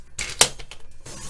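A paper cutter slicing a strip of paper into squares for a craft project, with a short crisp blade cut and a few light clicks and rustles close by.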